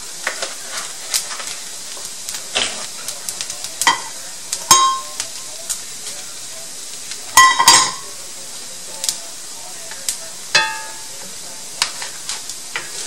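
Thai fried rice sizzles and is stirred in a frying pan, with a soft steady fry underneath and sharp metallic scrapes and clanks of the utensil against the pan at irregular intervals.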